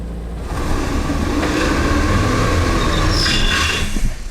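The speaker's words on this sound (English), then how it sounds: "3-wheel slip test, foot off the brake, onto the throttle" A Volkswagen Taos with a dual-clutch gearbox on an off-road wheel slip test, its engine droning steadily under throttle with broadband rushing and scraping noise throughout, no voices.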